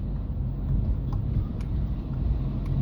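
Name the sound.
road traffic passing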